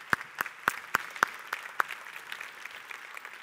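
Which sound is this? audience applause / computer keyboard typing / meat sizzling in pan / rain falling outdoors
audience applause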